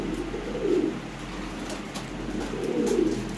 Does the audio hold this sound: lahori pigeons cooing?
yes